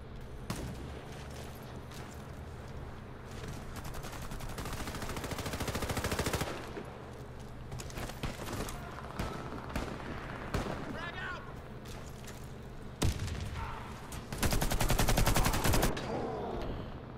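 Rapid bursts of automatic gunfire from the video game Warface, loud, dense rattling volleys with short pauses between them and heavier blasts near the end, with a player's voice now and then.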